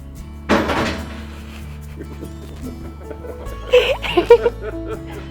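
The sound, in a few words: someone closing a door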